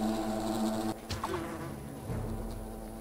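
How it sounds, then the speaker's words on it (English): Giant wasps buzz in the video game Fable: The Lost Chapters, a dense, continuous insect drone over game ambience that breaks off abruptly after about a second, leaving fainter buzzing and scattered effects. "Those are big wasps!"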